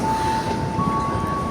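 Doors close on a KRL commuter train at Cibinong station, a steady electronic tone sounding over a loud, constant rumble of platform and train noise.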